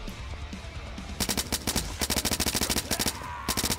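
Kalashnikov rifle fire in the zombie-shooter video game Blood Waves: a quiet lead-in, then loud, rapid bursts of close automatic shots in quick, even volleys, with short gaps between them.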